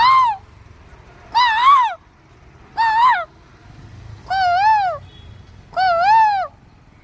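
A bird calls five times in a slow series of clear, wavering tonal hoots, each about half a second long and evenly spaced, loud and close over faint background noise in a morning outdoor setting near a temple.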